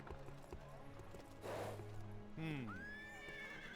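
A horse whinnies in a game set at a stable in Stonehelm, with hooves clip-clopping and a low musical backdrop, the sounds moderately close and faint overall.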